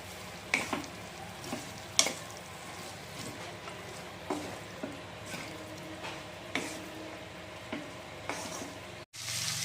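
Drumstick (sajna) pieces being stirred in a pan, with soft scraping strokes repeating every second or so over a low steady sizzle, close and fairly quiet.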